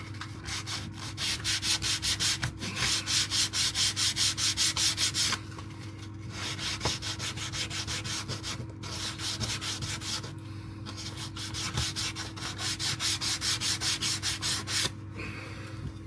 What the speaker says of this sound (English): it's easier to do it with sandpaper